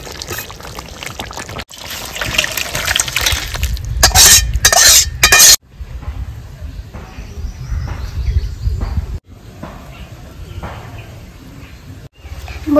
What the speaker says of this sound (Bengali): এবার আমি সাথে গোটা গরম মশলা ঢেলে নেব।